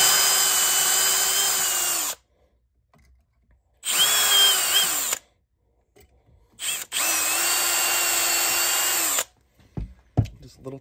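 Power drill tapping screw holes through the trigger guard of a Traditions flintlock Kentucky rifle kit, in three sustained whining bursts of about two seconds each separated by quiet pauses, close and loud, with a few small clicks at the end.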